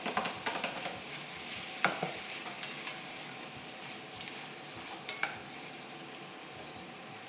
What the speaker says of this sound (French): Je vais maintenant rajouter l'ail et l'oignon et faire suer